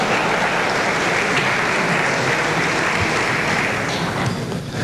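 An audience at the 2008 CADE business conference applauds during Alan García's closing speech: dense, steady clapping that fills the room at full volume and continues without a break.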